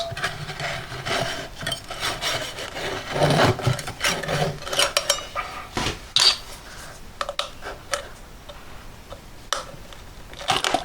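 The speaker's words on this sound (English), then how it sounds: "It's slow progress, but does it very neatly though, using these saws." Hand saws cutting slowly and neatly during restoration of a vintage speedometer, giving a continuous rasping, scraping rhythm of strokes at close range with no talk.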